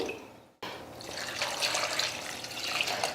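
Water pours steadily into a vessel after a brief pause, with a bright splashing, gurgling sound that holds close and fairly quiet.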